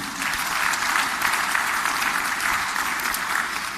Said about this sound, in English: So that deserves a round of applause for the institution